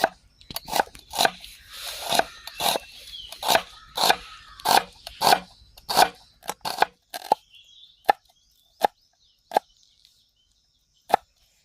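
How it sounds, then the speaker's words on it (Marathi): Onion being finely chopped with a knife for an omelette for egg paratha, a brisk run of sharp crunchy cuts on a board that slows into a few separate chops near the end, close and clear with no voices. "आपण ऑमलेटसाठी कांदा बारीक चिरून घेऊ"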